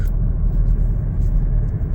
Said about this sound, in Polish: wrzuciłem łopatką szósty bieg